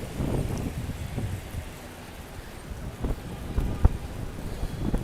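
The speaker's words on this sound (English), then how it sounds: "it's a little windy and cold" Cold outdoor wind buffets the microphone with steady low rumbling gusts and a soft broadband rush, plus a few sharp knocks.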